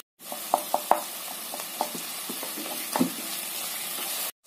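Chopped onions sizzle in hot oil with mustard seeds, a soft steady fry broken by a string of small pops and crackles as a spoon stirs them, fairly faint and close, with no talking.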